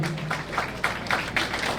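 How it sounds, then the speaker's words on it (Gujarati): An audience claps at an MOU exchange ceremony during a youth employment and skills event in Mehsana, with uneven, moderate applause in bursts and some faint voices mixed in. "જોરદાર તાળીઓનો અવિરત પ્રવાહ ચાલુ રહેવો જોઈએ"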